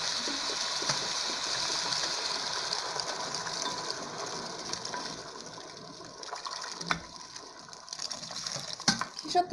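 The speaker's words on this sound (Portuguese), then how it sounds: "Agora eu vou pôr água pra ela cozinhar." Water pours steadily into a pot of sautéed meat on the stove, a continuous gushing splash lasting several seconds, with a few clinks and a quieter, more broken trickle toward the end.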